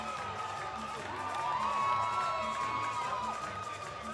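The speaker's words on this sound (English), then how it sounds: "to the thunderous roar of the sold-out crowd here at Monona Terrace" A sold-out crowd at a fight event at Monona Terrace roars and cheers continuously. The broad, sustained noise swells slightly through the middle, with higher shouts and whoops rising above the mass of voices.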